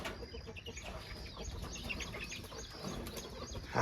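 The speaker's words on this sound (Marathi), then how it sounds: "आता कोंबड्या बाहेर काढते आहे." Chickens on a farm cluck and squawk in a busy, overlapping flock as they are let out in the morning, with sharp calls rising over a steady rustling background.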